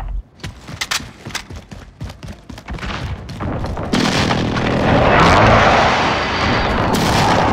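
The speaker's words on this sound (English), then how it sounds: "Enemy precision airstrike." Enemy precision airstrike explosions in Call of Duty Modern Warfare during a Domination match: gunfire and thuds at first, then a loud, rumbling wall of blasts from about 4 seconds that carries on to the end.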